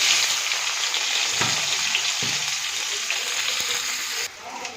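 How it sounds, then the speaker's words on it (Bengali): Onion hitting hot oil already spiced with whole cumin seeds, a steady bright sizzle throughout with a couple of soft knocks of a spoon, cutting off abruptly near the end. "এবার এর মধ্যে দিয়ে দেবো আগে পেঁয়াজটা"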